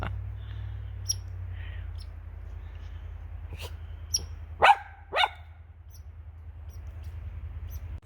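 A squirrel on a trail in British Columbia chatters at a dog: a few sharp squeaky calls and two louder chirping bursts near the middle, over a quiet outdoor hum with no talking.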